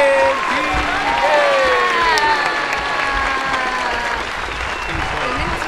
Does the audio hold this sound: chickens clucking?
no